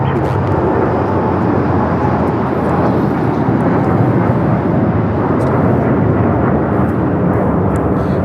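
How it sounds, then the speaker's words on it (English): A United Airlines Boeing 787-10 Dreamliner takes off from LAX, a loud, continuous broadband jet roar that stays strong and steady without any talking. "This is United Airlines Flight 39 taking off to Tokyo Haneda on the 787-10 Dreamliner"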